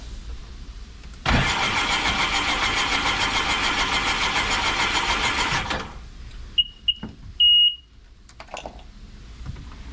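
Jetboat engine cranked over with its spark plugs removed: a starter-driven whirring, evenly pulsing cranking for about four seconds, then it stops, followed by a few short beeps and clicks.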